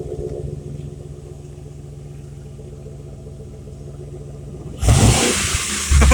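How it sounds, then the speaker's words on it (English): A 2015 Chevrolet Express with a 4.8L Vortec V8 idling with a steady low pulsing rumble, then a loud rev surges near the end. "A lot of vortec V8s sound like this, especially the 6 liter."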